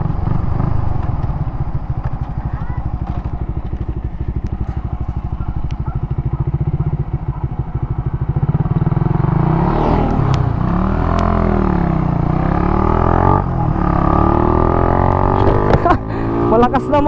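Motorcycle drag race between a Raider 150 Fi and an NS200: loud, close engine roar with revving and shifting pitch, rising in intensity partway through, with voices talking over it.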